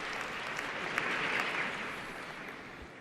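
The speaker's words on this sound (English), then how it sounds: "It says applause break on his key card." Steady, moderately distant applause from the audience at the Samsung Galaxy S9 launch event, filling the whole stretch evenly without speech.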